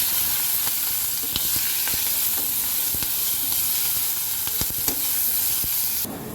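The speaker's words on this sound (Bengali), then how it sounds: "আদাটাকে খুব সুন্দর করে ভেজে নেব" Ginger paste fries in a pan with a loud, dense, continuous hiss up close, punctuated by sharp spatula clicks, before the sizzle abruptly drops away near the end.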